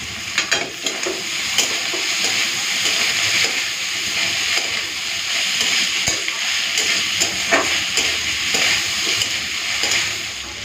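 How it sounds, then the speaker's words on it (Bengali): Potatoes and prawns fry together with gravy in a pan, a loud, constant close sizzle with scattered stirring scrapes throughout. "এখন এই আলু আর চিংড়ি মাছের সাথে ঝোলটাকে কিছুক্ষণের জন্য ভেজে নেব।"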